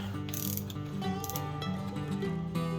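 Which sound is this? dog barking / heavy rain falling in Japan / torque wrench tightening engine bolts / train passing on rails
torque wrench tightening engine bolts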